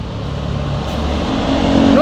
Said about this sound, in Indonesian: hati-hati dua rombongan bus pariwisata. Meluncur ke arah Tasikmalaya